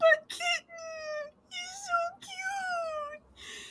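A kitten meows several times in a row, drawn-out tonal cries with pauses between, fairly close and clear, while people nearby coo and talk softly.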